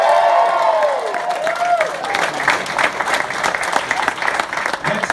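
A large arena crowd in Melbourne applauds and cheers for WWE wrestler Asuka, a loud, steady wash of clapping with whistles and shouts that stays dense throughout.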